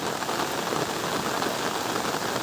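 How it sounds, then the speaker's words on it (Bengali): Heavy rain pours down steadily over green village surroundings, a dense, even hiss of drops on surfaces that continues without a break. "দেখেন বৃষ্টির অবস্থা, প্রচুর বৃষ্টি।"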